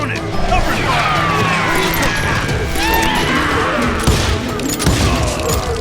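Gunfire in the Wild West shooter Call of Juarez: Gunslinger: a loud, continuous burst of shots and crashing impacts with a dense battle din and sharper cracks near the end, with voices mixed in.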